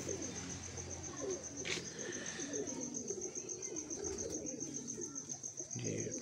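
Low, soft cooing of a pet pigeon nearby, repeated in short bursts against faint background noise and a steady high-pitched hum, with occasional rustling or wing sounds.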